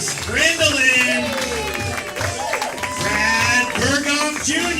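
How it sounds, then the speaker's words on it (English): An audience applauds the cast at the close of a comedy show, sustained clapping and a few cheers running under a loud announcer's voice throughout. "Keep that applause going for your cast."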